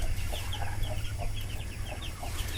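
An old hen with newly hatched peeps on a small hobby farm, late in the year, gives soft clucks amid a constant high chorus of chick cheeping over a low steady hum.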